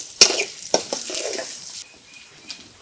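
Chopped onion frying in oil in a pan on the stove: a soft, steady sizzle broken by a few sharp clinks and scrapes of stirring near the start, then quieter frying near the end.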